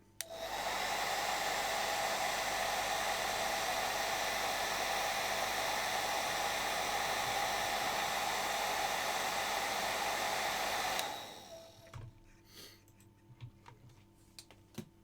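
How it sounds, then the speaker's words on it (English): A hairdryer roars loudly and steadily for about eleven seconds at close range, then cuts off abruptly, leaving only faint scattered ticks and small knocks in a quiet room. "I had the hairdryer on"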